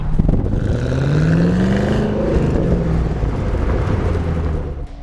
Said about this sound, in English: you really get that great balance of supercharger whine and the active exhaust